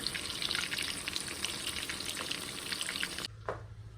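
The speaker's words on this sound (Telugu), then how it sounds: "అది మీడియం ఫ్లేమ్లో పెట్టుకొని స్లోగా ఫ్రై చేసుకోండి" Mutton keema balls slowly frying in oil over a medium flame, a dense continuous crackling sizzle close by that drops away abruptly near the end, leaving a faint hum and one brief spatter.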